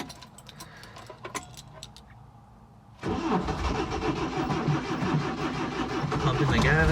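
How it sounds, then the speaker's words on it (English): A 1976 Toyota Chinook cold start: keys jangle and a few clicks come first, then the engine cranks and catches into a loud, rough, close running roar that builds steadily. "So we're gonna do a cold start here."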